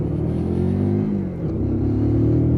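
A Lexmoto Michigan motorcycle pulls away in first gear at low throttle, its engine a steady close rumble whose pitch rises and falls through the ride and then climbs again as it accelerates.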